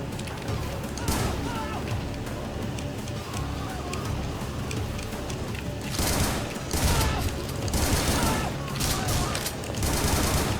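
Video game gunfire in a dense, continuous stream of rapid shots and bursts, loud and close, with heavier volleys partway through and a voice talking over it.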